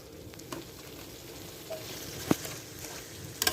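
Eel with holy basil leaves sizzles as it is stir-fried in a pan, a soft steady crackle with a few sharp clinks and scrapes of the spatula.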